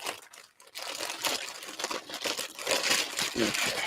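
Poor-quality scissors hack at plastic netting close by. A short pause leads into steady rough crinkling and crunching that lasts several seconds.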